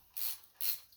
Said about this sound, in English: we'll get our 3/8 ratchet with an extension and a